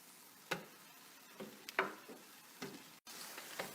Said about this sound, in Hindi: पाए डाल के इनको भून लेते हैं।